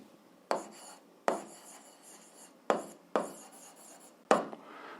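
A pen scratches across paper in five separate bursts with short pauses between them. The scratching is close and distinct in a quiet room, with no speech.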